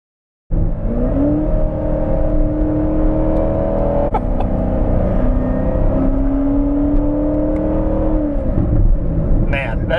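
A 2019 Chevy Corvette ZR1 engine pulls hard while driving, a loud, steady deep drone inside the car that rises in pitch through the gears, with a brief dip at a gear change.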